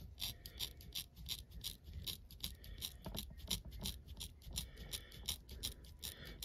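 Mediocre household scissors snip repeatedly in a quick, irregular series of crisp, close cuts, trimming something about an inch shorter.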